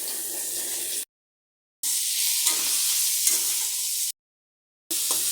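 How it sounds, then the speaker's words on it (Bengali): Bay leaf, whole cumin and spices frying in hot oil in a pan, a steady close sizzle that cuts out twice to silence before resuming, with faint stirring scrapes and no voices. "এটা তেজপাতা ছেড়ে দিচ্ছি, গোটা জিরাটা দিয়ে দিলাম, মশলাগুলো দিয়ে দিলাম।"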